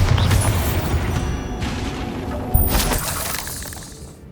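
A Bombarda blasting spell detonates in Hogwarts Legacy, a loud explosive burst with shattering debris and a sharp crack midway, then a rumbling tail that gradually fades.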